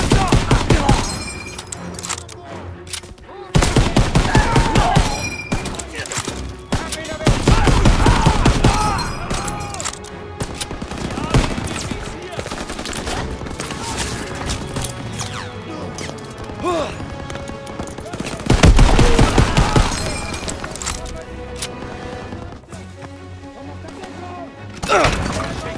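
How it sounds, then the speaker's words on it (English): Sustained machine gun fire from MGs during the Battle of Normandy's Operation Cobra in Call of Duty: WWII, loud continuous bursts with heavy impacts and crashes swelling and easing across the battle. "MG's are tearing!"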